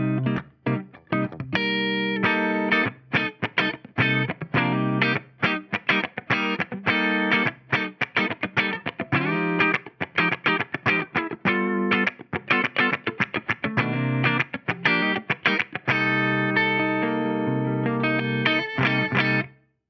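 A PRS electric guitar on the neck pickup through a Fractal AX8 USA Clean amp plays a busy run of quick strummed and picked notes with effects, loud and close, ending on a brief held chord.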